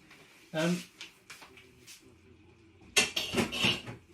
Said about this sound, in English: So let's remove that lid.